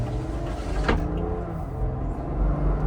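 Ineos Grenadier 4x4 engine pulling under acceleration, a steady low drone heard from inside the cabin with a brief rising whine partway through, no voices.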